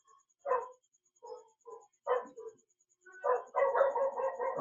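A dog barks nearby in several short separate bursts, then a longer run of rapid barks, heard alone with no talking.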